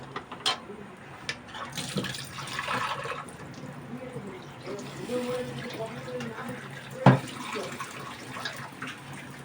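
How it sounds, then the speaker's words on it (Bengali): Water poured into a cooking pan over spices that have already been fried down, a steady splashing pour running for several seconds with a sharper splash near the end. "মশলাটা কষানো হয়ে গেছে, আমি এখন জল দিয়ে দিচ্ছি।"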